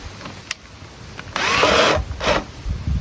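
A power drill backs out carburetor screws on a go-kart, with two short bursts of whirring spin between faint clicks and handling knocks, close by.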